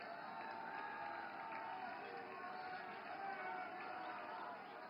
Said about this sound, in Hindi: जोरदार तालियों से खड़े होकर स्वागत कीजिए माननीय प्रधानमंत्री जी का।